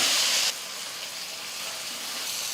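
Boiled plantain pieces dropped into hot oil for a spicy fry, giving a loud bright hiss at the start that quickly settles into a steady, softer sizzle.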